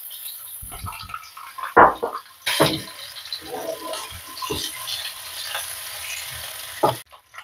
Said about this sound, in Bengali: ডিমগুলোতে আমরা হালকা নুন হলুদ মাখিয়ে নিয়েছি, নিয়ে আমরা ভেজে নিচ্ছি।